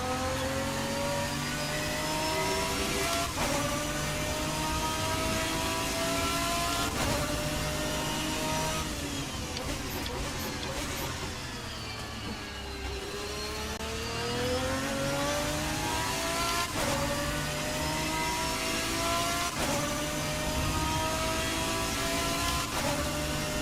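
GT1 race cars howl around the Okayama circuit in Assetto Corsa, a loud continuous engine drone rising and falling through gear changes, with one car's pitch sweeping down and back up as it brakes and accelerates, no talk.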